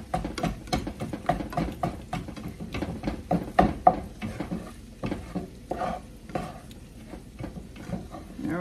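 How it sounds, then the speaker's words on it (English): Scrambled eggs are stirred and chopped up in a pan with the heat shut off: quick, repeated scraping and tapping strokes over a soft sizzle, close and steady, with no talking. "just keep moving them around,"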